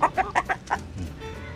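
Chickens cluck while feeding on black soldier fly larvae, giving a run of five or six short, close, moderately loud clucks in quick succession that then fade into quieter farmyard background.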